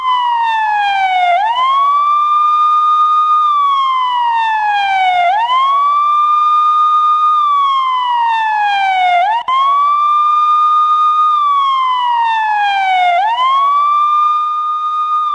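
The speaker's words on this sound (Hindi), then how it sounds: "पाकिस्तान में चारों तरफ एम्बुलेंस की आवाज और एम्बुलेंस के सायरन गूंज रहा था।" Ambulance sirens wail loudly in long, repeating rising-and-falling sweeps, four full cycles in a steady rhythm with no other sound, during a night of rocket attacks in Pakistan.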